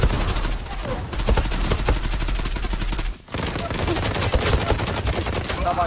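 Rapid automatic gunfire from the online shooter game Zula rattles in dense bursts, with a brief pause midway before firing resumes; loud and continuous.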